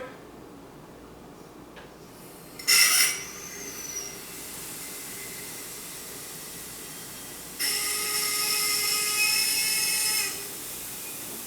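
Two bursts of high-pitched hissing gas leak from a SodaStream CO2 tank during refilling, the first brief and sharp, the second steadier and lasting a few seconds, over low background hum.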